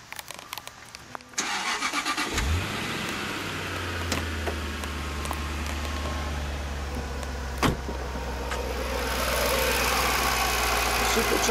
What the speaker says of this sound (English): Start up the engine here.